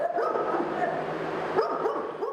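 Dogs at an animal shelter bark and yip repeatedly, with a few whimpering cries mixed in, fairly close and loud against a busy kennel background.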